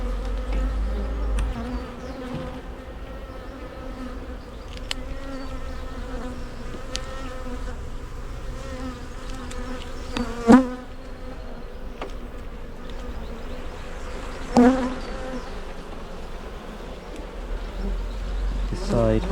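Dense, steady buzzing of many honeybees at an open hive during an inspection, close and continuous for the whole stretch, with a couple of brief louder knocks or bumps partway through.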